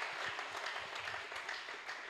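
A church congregation applauding and cheering the Lord, a steady wash of many hands clapping at moderate distance, fairly faint and continuous.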